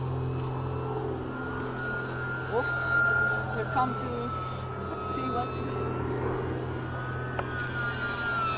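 A Twinstar RC model airplane flies with a steady electric motor whine that holds throughout, while people talk nearby over it.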